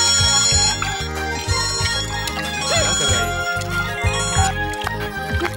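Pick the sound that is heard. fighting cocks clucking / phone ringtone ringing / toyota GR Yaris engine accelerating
phone ringtone ringing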